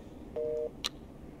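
A phone busy tone in a video game plays right after the call is hung up, a single steady electronic beep standing out clearly, followed by a brief higher blip.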